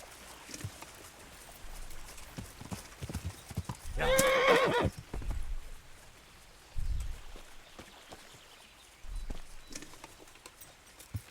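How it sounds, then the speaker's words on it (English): Horse hooves clip-clop in a steady rhythm in Kingdom Come: Deliverance, with a loud whinny partway through over a faint background hum. "That's my horse."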